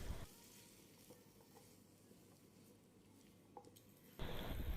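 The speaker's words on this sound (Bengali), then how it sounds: "এবার সবজিটাকেও আরও কিছুক্ষণ কষিয়ে নিব।" Potato and ridge gourd are sautéed in a pan, giving a faint, steady sizzle with soft stirring scrapes, then a louder burst of frying near the end.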